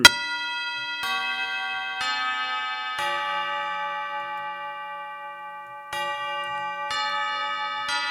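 Chime-like bell strikes in a visual-novel video game, six clear ringing tones spaced about a second apart, each with a sharp onset and long bright sustain, then a short pause before two more strikes.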